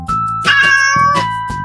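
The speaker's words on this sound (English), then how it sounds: "Cat." A domestic cat meows clearly in a farm-animal sound sequence: two or three close, loud, drawn-out calls in quick succession, with no talking over them.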